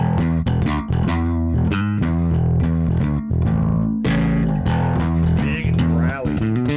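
Custom bass guitar with Thunderbird humbucker pickups growls out a loud, distorted run of notes, thick and aggressive up close with no speech over it.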